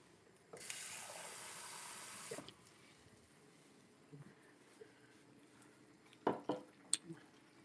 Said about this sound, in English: I'm also filling that cup up the rest of the way with water